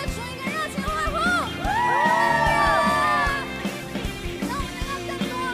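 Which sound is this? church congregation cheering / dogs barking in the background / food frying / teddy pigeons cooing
church congregation cheering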